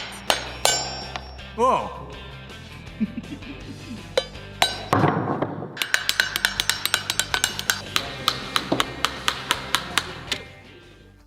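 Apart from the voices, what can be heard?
removing shell from coconut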